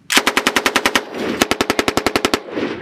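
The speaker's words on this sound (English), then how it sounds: "We got the sustained rate. 6 to 8 round burst." A machine gun fires sustained-rate bursts during a Marine field exercise at Twentynine Palms: two loud, rapid strings of shots, about ten rounds each, separated by a short gap, with echoing tails.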